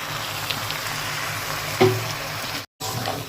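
Cumin and coriander powder with salt and a splash of water fry in a pan for a Bengali fish curry, a soft continuous sizzle with one brief clatter and a short dropout near the end.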